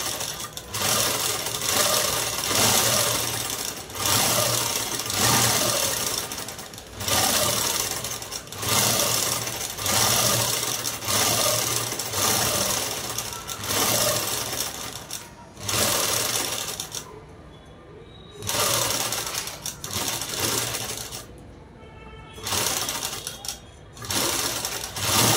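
A sewing machine runs in steady bursts of stitching as it sews the lining of a long frock dress, pausing briefly between runs, with a faint voice in the background.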